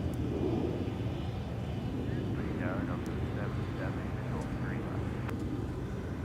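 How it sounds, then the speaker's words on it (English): An Air Canada jet takes off at Minneapolis–St. Paul Airport, a distant broad engine roar that stays fairly faint and steady, with muffled radio voices and light wind noise over it. "Got Air Canada going off on the north side."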